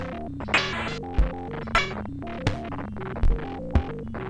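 A circuit-bent Casio SK-1 sampler emits a glitchy, throbbing hum with irregular stuttering pops and clicks, moderately loud and heard alone.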